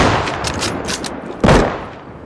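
Gunfire in the survival shooter game Deadside: a quick run of muffled shots, then one loud, close blast that echoes and fades.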